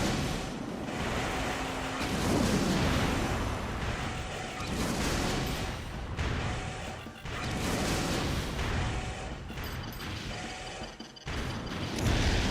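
Missile launches and explosions rumble continuously in the mech combat video game Armored Core, a dense, loud wash of blasts and impacts with layered booms throughout.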